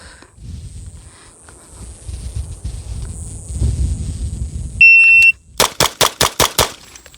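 Rapid string of six sharp pistol shots from a Smith & Wesson M&P 2.0 Metal handgun fitted with a grip weight, evenly spaced and loud, following a brief electronic beep and quiet rustling.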